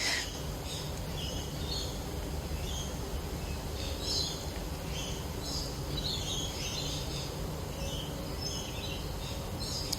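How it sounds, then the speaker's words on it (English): Birds chirp and twitter in scattered bursts in the early morning before rain, over a steady low outdoor rumble, with several calls overlapping and no voices. "I think it might be going to rain and the birds go a bit crazy."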